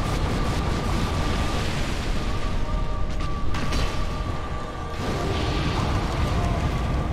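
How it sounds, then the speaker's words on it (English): An explosion attack in the Dark Souls video game: a dense, sustained roaring blast that fills several seconds with loud, rumbling noise, dipping briefly before surging again. "She's doing the explosion again."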